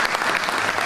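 A crowd applauds for Aurora, a participant at an outdoor winter event in the cold, with dense, steady clapping filling the whole moment and no talk over it.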